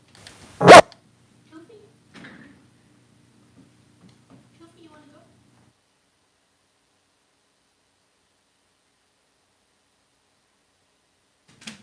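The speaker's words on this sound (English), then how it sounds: "Dog's in here running around." Dog indoors, giving one sharp, loud bark near the start, then faint scuffling and footfalls as it moves around a quiet room, with a soft click at the very end.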